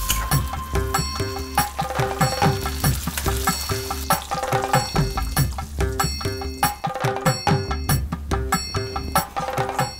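Cashew nuts and coconut pieces fry in ghee with a constant close crackling sizzle, punctuated by regular metallic taps and scrapes of stirring against the pan.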